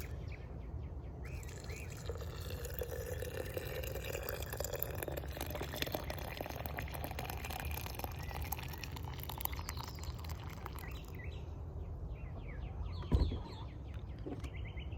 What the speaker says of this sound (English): And we just put them all in the little French press. We scald it with hot water.